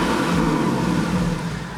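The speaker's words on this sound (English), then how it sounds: "there's not many cars that are going to sound better than that flat six" Porsche 981 Boxster Spyder flat-six engine in Sport Plus mode, running loud and close with a steady, throaty drone throughout and no talk.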